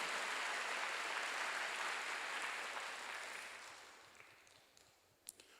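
A church congregation at a Wednesday worship service claps together. The applause is a dense, loud wash that holds steady and then fades over several seconds, ending with a few scattered last claps.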